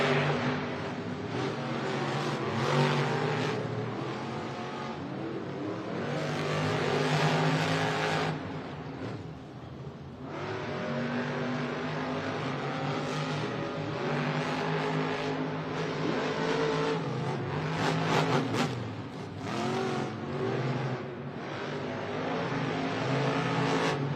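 Monster Jam trucks Bad Company and JCB Digatron race side by side on a slick stadium lane, their big engines roaring loud and continuous with revving surges and crowd-filled ambience throughout.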